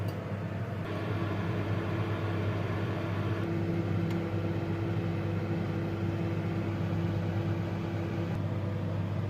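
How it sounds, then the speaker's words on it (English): Steady, constant hum of a running microwave oven cooking a pack of McCain microwave French fries, with a low drone and faint whirring throughout, no talking. "put the fries pack into the microwave for 4 minutes until cooking is"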